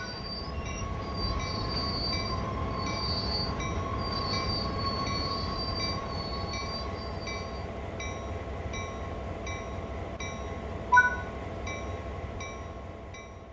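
A GP38-2 diesel locomotive in a simulated train on Sand Patch Grade slows to a stop, with wheels squealing and a steady rolling rumble, a short brake hiss near the end, and no voices.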